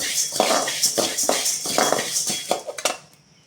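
Half a cup of coriander seeds dry-roasts in a kadai on the stove, a spatula scraping and clinking against the pan in quick, rhythmic strokes, close and fairly loud.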